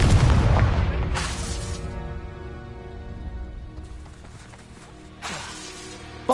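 A Confringo fire spell in Hogwarts Legacy detonates with a loud booming blast that decays into a long rumbling tail, followed by a second sharp burst a few seconds later.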